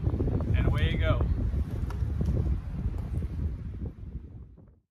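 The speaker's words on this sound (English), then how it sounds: "The wind is really blowing here in Crescent City, California" Strong wind buffets the microphone outdoors in Crescent City, California, at a stop for recharging a 2022 Nissan Leaf E Plus; loud steady roaring gusts that ease off and fade out toward the end.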